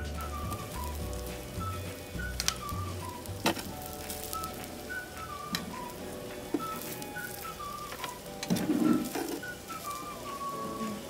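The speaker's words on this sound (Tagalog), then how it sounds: "medyo mainit na siya. So, maglagay na tayo ng fishball." Fishballs going onto a hot samgyupsal cooker bring up a steady, soft crackling sizzle with scattered pops and faint ticks running throughout, close by and moderately quiet, with no speech.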